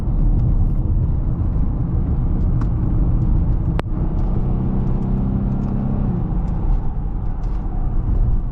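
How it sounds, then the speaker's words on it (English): A Lexus IS 250 car engine hums in a steady, close rumble, with a brief click and then a slight rise in tone as it accelerates under light throttle. No one speaks. "when you give it some gas"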